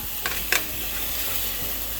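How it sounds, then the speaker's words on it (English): Cheap steak for fajitas sears in a hot pan with a loud, continuous sizzle, and a few scraping stirs break through early on. "you just keep going until you got a nice sear on everything"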